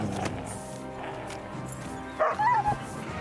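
Dog barking in the Kingdom Come: Deliverance II video game, a short burst of loud, close barks and yips late in the clip over a steady game background.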